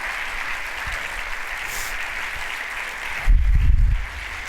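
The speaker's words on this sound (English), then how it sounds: "Can we give Peter another huge round of applause" An audience at the AMSA Convention 2018 bursts into applause, a short swell of clapping that rises suddenly over the quiet hall and fades after under a second.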